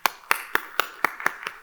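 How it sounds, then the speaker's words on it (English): Seminar audience clapping in a quick, even rhythm of about seven crisp claps, close and fairly loud with no talk. "Can you please clap for yourself for staying here for this presentation?"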